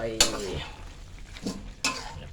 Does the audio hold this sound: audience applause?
no